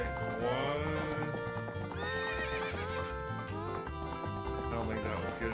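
A horse in The Legend of Zelda: Ocarina of Time whinnies and clip-clops along amid loud game music, the hoof beats and neighs sitting under a busy melodic soundtrack.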